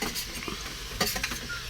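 Chopped onions are stirred hard in a pan while frying for a chicken curry cooked inside a lorry, with brisk metal scraping and clatter over a close, busy sizzle.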